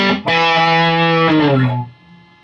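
A distorted electric guitar plays part of a riff: a single picked low note on the sixth string sustains thickly, then slides down in pitch and cuts off, loud and close with no talking.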